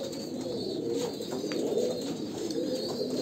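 Kalanka pigeons coo softly at a home loft, making low, steady murmuring calls that overlap and carry on without a break. The sound is fairly close and moderately quiet, and no voices are heard.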